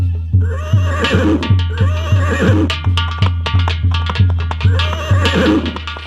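A horse neighs again and again in loud, close whinnies that repeat in a regular pattern three times, over a steady rhythmic thumping.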